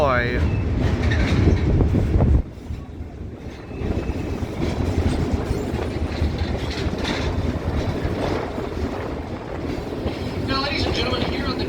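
Tourist train on the Leadville and Colorado Southern route rumbling along the rails, loud wheel noise and clickety-clack that drops to a steadier lighter rattle partway through, with faint voices underneath.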